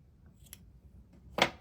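Scissors trim crochet yarn tails on a small crocheted bee, giving a faint tick followed by one sharp, close snip in a quiet room.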